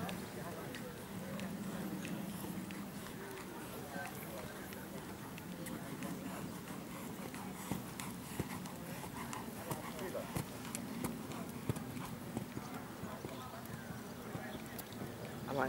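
Horse hooves clip-clop steadily at a moderate distance, mixed with ongoing crowd chatter and background murmur.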